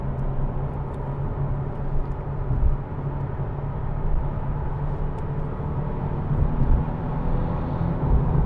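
A 2014 Nissan 370Z GT's 3.7-litre V6 runs with a continuous, dense engine drone from inside the car, swelling slightly in brief surges as the throttle is blipped.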